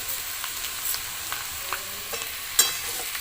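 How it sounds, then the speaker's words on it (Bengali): A vegetable chop mixture of potato is stirred in a frying pan, with soft scraping strokes at an irregular pace over a steady, faint sizzle. "তো ভালো করে আবার আমি নাড়াচাড়া করে নেব।"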